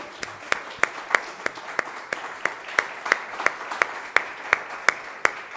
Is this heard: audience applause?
yes